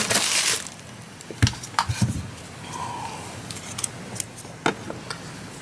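Scissors snipping crochet yarn near the end of an apple beret project: a few sharp, separate clicks and crunches spread over several seconds, with faint handling noise between them.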